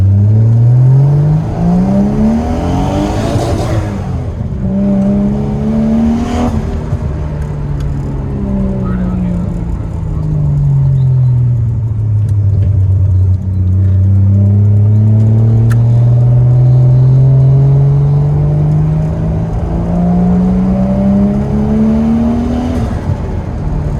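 Nissan Skyline R33 engine pulling hard on a road run, revs sweeping up and down through gear changes in a loud, continuous drone with rising and falling pitch, close to the listener.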